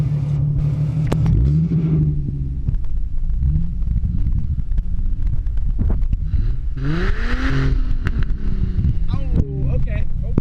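A car engine with a newly installed cold air intake is revved in several bursts, rising and falling in pitch and loud and close. Voices talk and exclaim over it.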